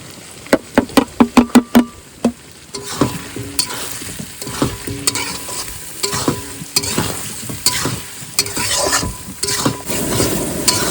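Potatoes with salt, turmeric, cumin, coriander, pepper and chili powder frying in a pan, a run of sharp spatula knocks at the start, then steady sizzling with repeated scraping stirs close by, no voices.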